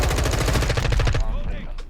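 Automatic gunfire from a weapon in a video game, a rapid, evenly spaced burst of loud close shots lasting about a second before stopping abruptly, followed by a short tail of fading reverberation.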